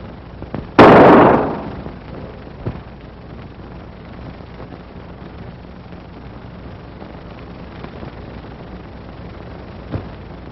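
A single sharp gunshot bursts out loud and close in an old Harlem western film, then a long fading echo tail, with only faint background hiss and a couple of small ticks afterward.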